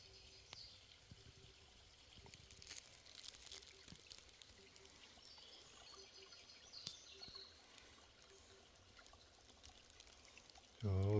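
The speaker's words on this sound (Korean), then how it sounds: "물도 맑게 흐르고 있고" Clear mountain stream water runs after rain, heard as a faint, continuous trickling and pouring wash in a quiet outdoor setting, with occasional soft birdsong in the distance.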